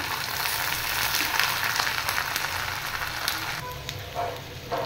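Ginger garlic paste sizzles and fries steadily in a hot pan, a dense continuous crackle with brief stirring scrapes toward the end, close and fairly loud with no talk.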